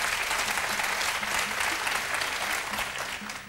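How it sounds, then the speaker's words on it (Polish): Studio audience applause at a Polish quiz show fills the whole clip, a dense, steady patter of many hands that fades slightly near the end. "Brawa za decyzję."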